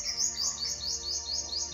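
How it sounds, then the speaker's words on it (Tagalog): A small bird chirps in a quick, repeating series of high tweets, fairly close and steady throughout, over a faint outdoor background with no talking. "May isang ibon."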